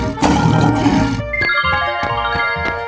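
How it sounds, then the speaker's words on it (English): A lion's roar from a 3D animal video game, loud and close, opening with a long rough growling burst and then giving way to bright tonal game music with repeated sharp accents. "Lion."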